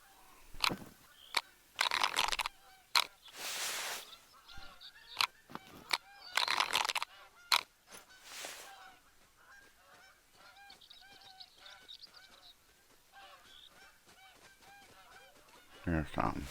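Geese honking in the hunting game The Hunter: Call of the Wild, Hirschfelden reserve: a flock's repeated nasal honks, some loud and close in bursts, others fainter and more distant, over quiet outdoor ambience.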